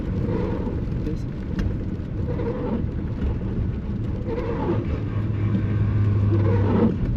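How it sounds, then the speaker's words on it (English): Heavy truck engine revving as the driver floats gears on a downshift, raising RPM without the clutch; a steady, loud in-cab drone with a rising rev near the end, and a voice speaking over it. "you have to use your right foot to press both the brake and the gas to get the RPM up while you're slipping the gears down"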